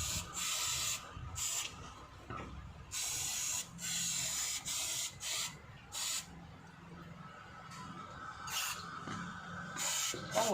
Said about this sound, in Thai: เราต้องใช้สเปรย์ฉีดล้างก่อนนะครับ เดี๋ยวตัวนี้ไล่ฉีดไปมันก็จะแห้งนะฮะ